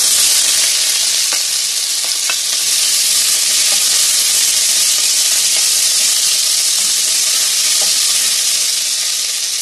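Onion sizzling loudly in hot oil with melted sugar, a dense steady frying hiss with occasional pops, for a pork ribs and pasta dish.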